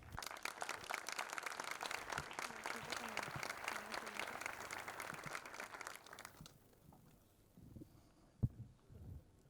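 Warm applause from a developer conference audience, dense clapping that holds steady for about six seconds and then cuts off, followed by a quiet room with a few handling thumps and a voice.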